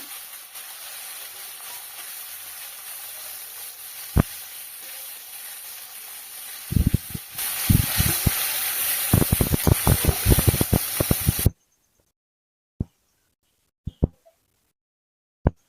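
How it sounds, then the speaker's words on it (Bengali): Small kachki fish frying in hot oil, a steady hiss of sizzling that swells louder with crackles and spits partway through, then cuts off, leaving a few isolated pops. "মোটামুটি ভাজা হয়ে এসছে মাছগুলো"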